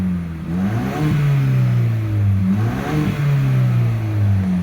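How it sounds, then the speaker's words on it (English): A Ford Ranger Tremor with an aftermarket AWE exhaust revs up several times close by. The deep engine note rises and falls in repeated throttle blips. "Let's take a listen to what it sounds like revving."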